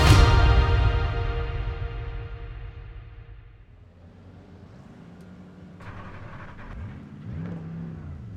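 Simulated race car engine on a lap of the Nürburgring Nordschleife, starting loud with a high revving whine that fades, then rising and falling engine tones return at moderate level as the car accelerates and shifts.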